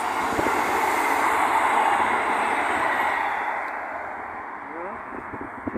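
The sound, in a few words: train passing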